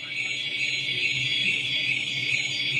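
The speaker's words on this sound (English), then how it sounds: "The alarm should start going off here soon." An alarm sounds continuously on an industrial machine at a trade expo, a steady high-pitched electronic tone over a low mechanical hum.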